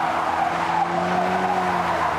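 Tires on a Ford Focus RS squeal and skid in drift mode, a sustained rubbery howl with a wavering pitch over the car's engine, loud and continuous for about two seconds with no talk.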